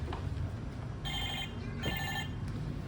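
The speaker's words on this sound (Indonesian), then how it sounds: "Ada telepon nih." A telephone rings in two bright, trilling bursts, each about half a second long with a short gap between them, sounding over a low background hum without talk.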